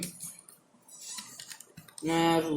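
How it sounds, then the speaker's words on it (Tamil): Quick keystrokes patter on a computer keyboard during a coding session, soft and irregular, before a voice starts talking at the end. "இதுக்குள்ள நம்ம டைப் பண்ணிக்கலாம்."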